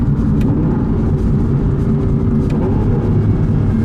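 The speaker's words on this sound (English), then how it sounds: "certainly liking it in sport because then you get the full sort of V12 noise going on" Aston Martin V12 engine in sport mode shifting down through the gears on a semi-automated gearbox, a steady, loud, close rumbling drone heard from inside the car, with no voices.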